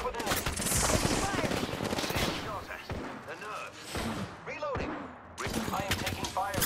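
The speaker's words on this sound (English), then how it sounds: "I am taking fire, friends." In a video game shootout, enemies fire back in hard, rapid bursts of machine-gun rounds and single shots with thumping impacts. The firing is close and loud and stops briefly before starting again, with speech mixed in.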